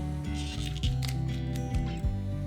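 Several crisp snips and crunching cuts in quick succession, close up, as scissors work through a crayfish shell.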